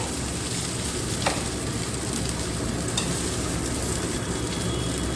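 Cauliflower and potatoes fry in a pan with a dense, continuous sizzle and crackle, steady and close, with no voices.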